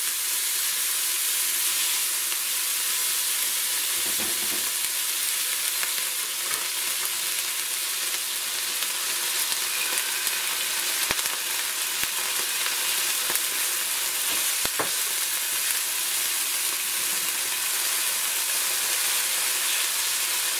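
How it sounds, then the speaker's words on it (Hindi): Cumin seeds and ginger-garlic paste sizzle steadily in hot frying oil for an Indian dal tadka, a dense continuous hiss with occasional sharper pops and crackles, close and fairly loud, with no talking. "अब हमें ज़ीरे की चटकने की आवाज़ें आ रही हैं"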